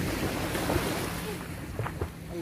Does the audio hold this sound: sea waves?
yes